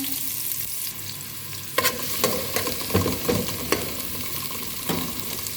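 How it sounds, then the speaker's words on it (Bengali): Chopped onion and garlic fry in oil over a gas flame, a soft continuous sizzle with a handful of sharp spatula taps and stirs scattered through. "পেঁয়াজ আর রসুন কাইটা নিছি, আর এখানে তেল দিয়ে দিছি গ্যাসে। তো এটা ভাজা হোক"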